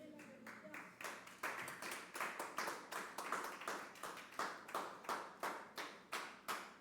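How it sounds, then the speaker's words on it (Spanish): Congregation clapping in rhythm during a Spanish-language church service, steady unison claps about three per second, moderately close with faint voices underneath. "¿Le podemos dar un aplauso a Cristo en esta tarde,"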